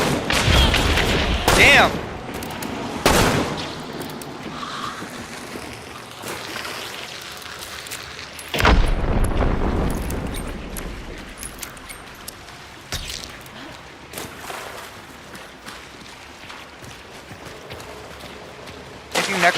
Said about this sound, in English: That thing just went like a bullet ricochets.